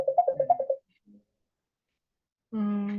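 Mobile phone ringtone of an incoming call, a close, clear melody of quick rising and falling tones followed by a pause and then a sustained buzzing ring, with no talking.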